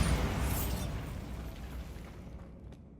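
The Bombarda blasting spell goes off in Hogwarts Legacy, a loud explosive burst at the start that rumbles and fades away over a few seconds, with no voices.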